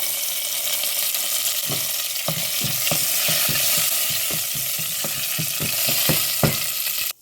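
Curry leaves dropped into hot oil with fennel, cumin and fenugreek, loud continuous sizzling close up, with a steady series of spoon scrapes as they are stirred, no voices.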